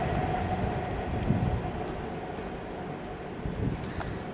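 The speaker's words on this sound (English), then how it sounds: "It's quite noisy when the trains are at the station" A train on Melbourne's elevated skyrail near Clayton gives a steady, loud rumble with wind noise, sustained throughout with a few faint high squeals.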